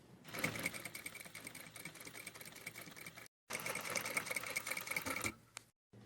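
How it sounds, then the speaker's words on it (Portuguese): A sewing machine runs a continuous edge stitch along a bias-bound sleeve hem, its steady rapid whir broken by a short pause near the middle before resuming, then stopping at the end. "Então, nós vamos costurar uma costurinha de beira aqui."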